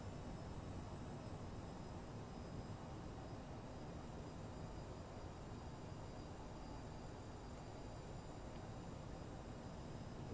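Steady jet engine roar of a CRJ550 airliner in Microsoft Flight Simulator, a broad continuous rumble held at an even level throughout with no voices.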